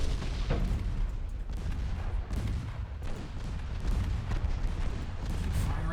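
Naval gunfire from destroyers in the warship game Ultimate Admiral Dreadnoughts, a steady stream of heavy booming cannon shots, some overlapping, that stays loud throughout with occasional sharper blasts.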